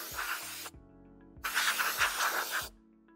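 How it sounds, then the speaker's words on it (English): Compressed air at no more than 80 PSIG blows through a flame arrestor element during cleaning, two loud close hissing bursts separated by a short pause, with faint clicks between. "First, you can use compressed air equal to or less than 80 PSIG."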